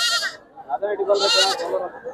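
Goat kids bleat nearby at a sheep and goat market in Chitradurga, India, in short, high cries, twice, while people talk at close range.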